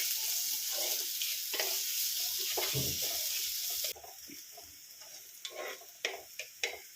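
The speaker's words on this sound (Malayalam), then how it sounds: "സവാള ഒന്ന് വറുത്തേക്കാം" Sliced onion fries in a pan for a clam roast, a dense steady sizzle with stirring scrapes that drops to a softer crackle midway, with occasional clinks.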